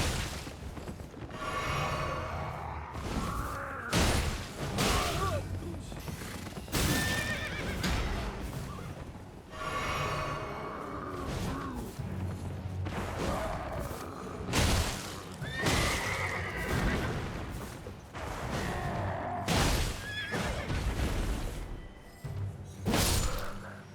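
Horse in the Elden Ring video game neighing and whinnying repeatedly, loud and close, mixed with clip-clopping hooves and thuds of combat throughout.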